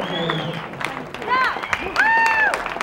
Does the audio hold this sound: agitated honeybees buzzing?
no